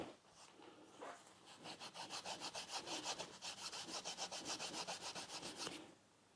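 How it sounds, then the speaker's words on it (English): Rust being scraped off a Royal Enfield Classic 350 motorcycle exhaust, a close, steady run of rapid rhythmic rasping strokes that build and keep a brisk back-and-forth pace before stopping abruptly. "And it scrapes like rust."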